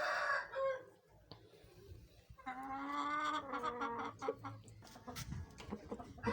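An Aseel rooster clucks and crows in short harmonic bursts, loud and close, with scratchy scuffling noises between calls.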